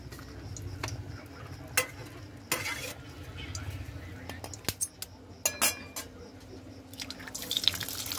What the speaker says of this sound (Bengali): আর এই ডিম দুটো এখন আমি ভেজে নেব।